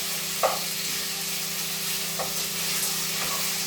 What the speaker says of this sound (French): Et on la remue pour mélanger avec les oignons et les épices.